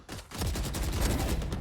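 A rapid burst of gunfire in the tactical shooter Valorant, a dense crackling volley of shots lasting under two seconds, fairly faint and with no talk over it.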